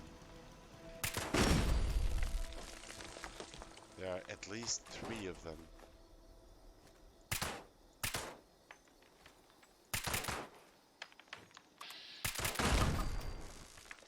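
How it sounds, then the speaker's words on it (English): Hidden gun turrets in the video game Fallout 76 fire several separate bursts of rapid gunfire, loud and sharp, spread across the stretch, while someone speaks briefly between them. "In this area you have to watch out for the turrets because they're not on plain sight when you come this way. You can already hear them."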